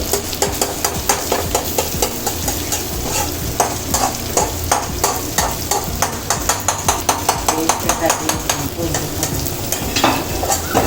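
Egg noodles being stir-fried in a pan, with a steady sizzle under rapid scraping and tossing strokes of a spatula against the metal, loud and close, continuing for about ten seconds.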